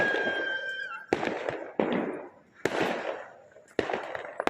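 Loud Diwali firecracker bangs burst at irregular intervals, each sharp crack followed by crackling fireworks and a lingering rumble, with a faint whistle early on, at night in Sadhaura.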